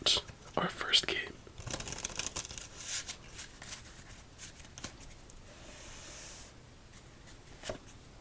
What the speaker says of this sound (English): Let's give it one more shuffle and deal out our first game